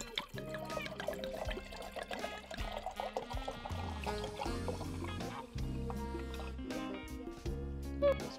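Wine glugs from a bottle into a king-size wine glass, with continuous pouring and rhythmic gurgling pulses, close and fairly quiet, and no speech.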